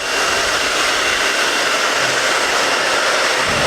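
A hair dryer blows hot air onto a glued repair on an inflatable product, a loud, steady, close whooshing roar that runs without a break.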